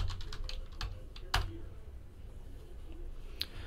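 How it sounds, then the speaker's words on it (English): Computer keyboard typing clatters close by, a quick irregular run of light key clicks with one sharper louder tap partway through and a few more near the end, no talking over it. "Why did I type in that?"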